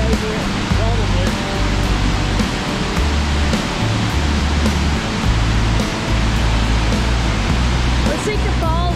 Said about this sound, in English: So this is Dingmans Falls.